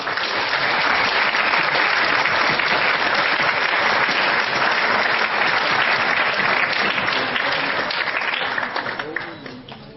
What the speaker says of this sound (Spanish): Vamos pues a darles un aplauso a nuestros dos destacados